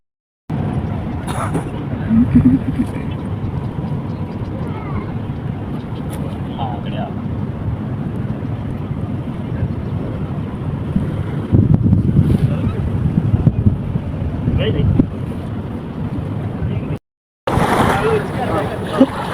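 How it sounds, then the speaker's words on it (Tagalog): Waves wash and splash against the shore near Kuwait Towers amid gusty wind buffeting the microphone, with surges of louder surf, a brief dropout near the end. "Sa part na ito, gustong gusto ko yung tunog ng hampas ng alon."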